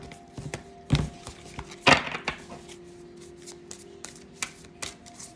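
A deck of oversized oracle cards being shuffled by hand, giving a handful of quick riffling bursts and soft flicks close to the mic, with low steady hum underneath and no talking.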